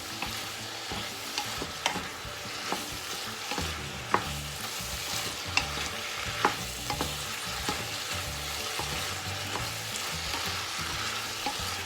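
Pork and vegetables stir-fried with red curry paste in a pan: a steady close sizzle broken by regular scraping and clanking strokes of the spatula, with no talking.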